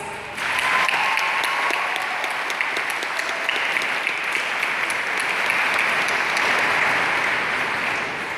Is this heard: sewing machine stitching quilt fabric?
no